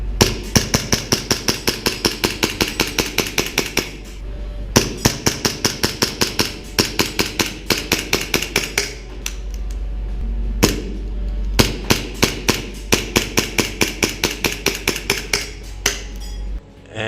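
A VFC 1911 gas airsoft pistol fires on rapid fire, loud sharp cracks in fast bursts of about a dozen shots each, with short pauses between strings and no talking.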